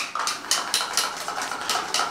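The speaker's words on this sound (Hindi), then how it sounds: "हमने दही ले ली है, अब आपने इसको चम्मच के साथ अच्छी तरह फेंट लेना है।" Rhythmic clinking of a metal spoon against a bowl as curd is whisked, about nine quick regular strokes, close and clear with no voices.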